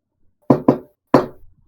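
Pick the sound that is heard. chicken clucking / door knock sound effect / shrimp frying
door knock sound effect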